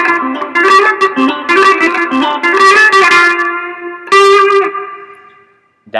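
A distorted, effects-laden electric guitar plays a rhythm riff at a quicker tempo, choppy repeated notes tumbling along before a final struck chord rings and decays to silence.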